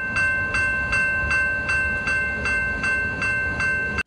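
Train cars roll along railroad tracks with a steady, evenly spaced clack of wheels over rail joints, about two per second, close and loud, under a sustained high tonal whine and with no voices.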